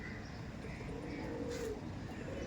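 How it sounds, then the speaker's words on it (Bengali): Rampuri pigeons in a loft giving soft, low cooing under a constant background hum, faint and somewhat distant, with a brief brighter rustle midway. "রামপুরি পায়রাও ডাক দিচ্ছে, দেখে রাখুন।"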